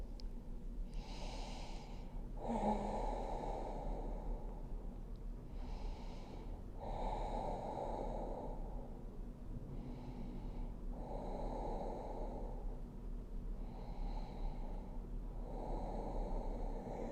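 Slow, deep breathing during a yoga child's pose: audible inhales and exhales follow one another in a calm, regular rhythm, each lasting a couple of seconds, close and quiet with no talking.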